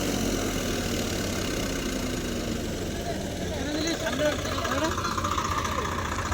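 A Swaraj tractor stuck in deep mud runs with a steady, rough, knocking engine drone throughout, and people talk over it.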